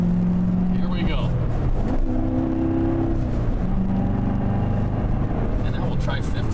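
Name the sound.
2014 Corvette accelerating on freeway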